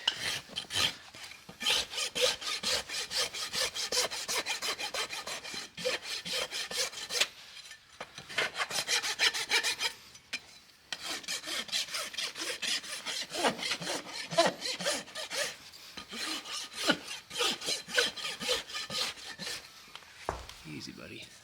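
A farrier rasps the hoof of a horse with laminitis, dressing back a heavy bevel: long runs of steady, close, loud scraping strokes in even rhythm, with a few brief pauses between passes.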